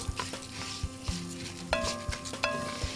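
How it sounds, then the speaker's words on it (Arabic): Bird's tongue pasta frying in hot oil in a pan, giving a steady sizzle with repeated stirring scrapes and a few metallic clinks of utensil on pot, with no voices. "انا هديله برضه هقول لكم صدمه في في الزيت لا اقل ولا اكتر عشان ما يعجنش مني"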